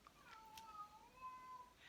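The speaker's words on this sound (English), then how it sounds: "My cat won't shut up meowing." A pet cat meows repeatedly at close range indoors, a few drawn-out meows running one after another over a quiet background with no talking.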